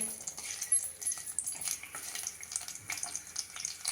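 Bay leaf dropped into melted butter in a pan, a soft close sizzle with faint crackling and small clicks, steady and fairly quiet throughout.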